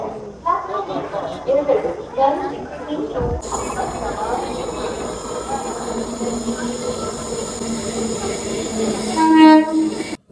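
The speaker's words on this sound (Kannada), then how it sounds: "ಫೈನಲಿ ನಮ್ಮ ಟ್ರೈನ್ ಬರ್ತಾ ಇದೆ" A train rumbles in and a loud horn blares near the end, with people talking over the steady roar of the arriving carriages.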